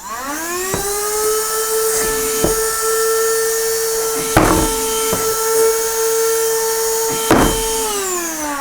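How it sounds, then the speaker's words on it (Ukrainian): An Aspiring Windstorm 2 two-in-1 vacuum cleaner and compressor runs with a steady, loud high-pitched motor whine that holds a constant pitch throughout, broken by a few brief clicks and knocks. "Вмикаємо пилосос."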